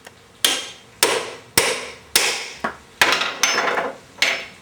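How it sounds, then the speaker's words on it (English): A 3-pound sledgehammer strikes a power steering hose laid on an aluminum block atop a bench leg, giving about eight loud, close, evenly spaced metallic whacks, each with a brief ringing decay and no voices. "3-pound sledge, block of aluminum, on the leg of the bench for the least amount of deflection."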